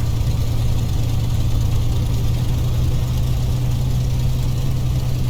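Small aircraft engine idling steadily on the ground and given a touch of power for taxiing, a continuous close, loud droning hum with no voices.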